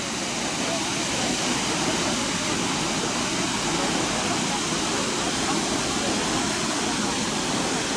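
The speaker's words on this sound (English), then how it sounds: "The morning tour is the Multnomah Falls, the waterfall." A steady, dense roar of falling water from Multnomah Falls fills the whole stretch, constant and unbroken, like standing near a waterfall.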